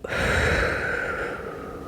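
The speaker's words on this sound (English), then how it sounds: "Breathe out. Breathe in. And breathe out." A single long, steady exhale through the mouth during a mobility exercise, close and clear, lasting nearly two seconds with an airy hiss, and no talking.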